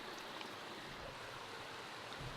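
A stream on a hiking trail flows with a soft, even rushing hiss that holds steady throughout, faint and with no voices.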